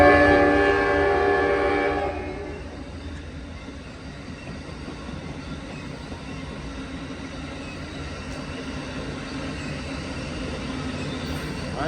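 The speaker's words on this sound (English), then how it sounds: "This train is traveling slowly tonight." An Amtrak Coast Starlight passenger train led by a P42 locomotive rolls slowly past the Oakland Coliseum station at night, its horn sounding for the first two seconds before a steady rumble of wheels and cars continues.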